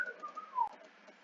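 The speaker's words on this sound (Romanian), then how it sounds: "Eu trag în mine aer ca să fluier." A person whistles by drawing air inward, producing a thin, faint wavering tone that slides downward in pitch over about a second with soft breathy edges.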